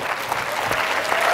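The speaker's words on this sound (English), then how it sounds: "Round of applause for these guys." Audience applause at a high school hypnosis show, a steady dense wash of many hands clapping, fairly close and even in level throughout, with no talk over it.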